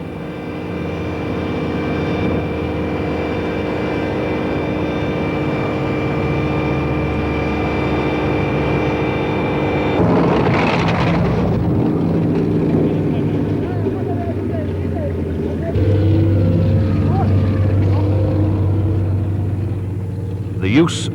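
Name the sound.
tracked military armoured vehicles, Rapier batteries, engines moving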